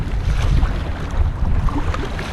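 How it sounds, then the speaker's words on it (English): Rough water slaps and churns around a kayak while wind buffets the microphone, a steady, close wash of waves with no voices. "These waves are rough."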